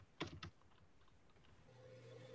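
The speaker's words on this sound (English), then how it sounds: "Typing is hard, apparently." Quiet typing on a computer keyboard, a short burst of a few sharp key clicks followed by fainter scattered taps over a low background hum.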